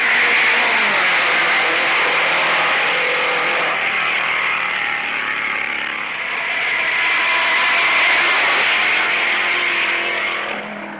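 Supercharged Novi V8 race car at the Indianapolis 500 screaming down the straightaway at around 180 mph, a loud, continuous high-pitched engine wail that holds steady and swells slightly as it passes.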